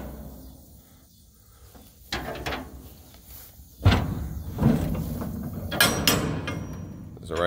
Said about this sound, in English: here's the doors on the 40 foot standard P&O box.